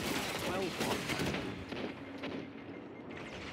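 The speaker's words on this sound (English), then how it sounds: "Putting in work with that pulse rifle." Pulse rifle gunfire in a Destiny 2 player-versus-player match: a dense, continuous clatter of rapid shots mixed with other game effects, fairly quiet overall and easing off toward the end.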